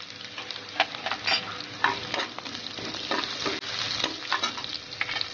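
Tempering of green chillies, curry leaves and turmeric sizzling in hot oil for a village-style brinjal sabzi, a steady close crackle with frequent sharp spits and stirring scrapes throughout, no voices.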